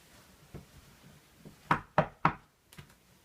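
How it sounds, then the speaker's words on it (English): Three sharp knocks, like a fist on a wooden door, ring out close and loud in quick succession, the knocking effect in a comic Macbeth parody, with faint softer thumps before and after and no speech. "Where's that knocking coming from?"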